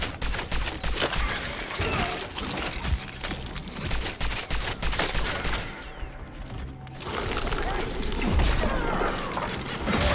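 Rapid gunfire in the survival-horror game Cronos: The New Dawn, shooting at bubble-like targets, with dense bursts of shots and mechanical clatter filling the scene before a brief lull and renewed firing.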